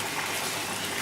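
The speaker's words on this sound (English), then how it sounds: "In boiling water I am putting in this rice" Washed rice tipped into a pot of boiling water for chicken biryani, giving a soft, steady watery rush and bubbling that stays fairly quiet and close throughout.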